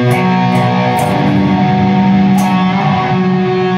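Electric guitar through a Kemper Profiler with a delay and reverb tone, playing thick sustained notes with a few bright picked accents, loud with no talking.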